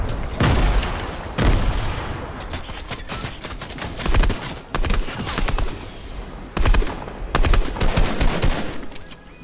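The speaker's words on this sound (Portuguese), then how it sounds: "tá vindo granada, granada, granada" Rapid bursts of automatic gunfire and heavy booms crackle through a video game match, loud and dense, in repeated volleys with short lulls between them.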